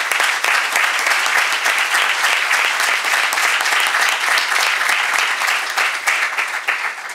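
Sustained applause fills a hall at a university academic year opening ceremony, many hands clapping in a thick, even roar for the participants, loud and continuous without any speech over it.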